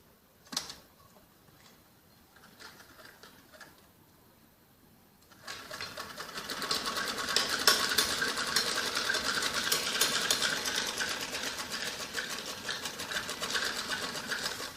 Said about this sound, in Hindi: ऐसे करके ऐसे सीधी सिलाई लगाएंगे।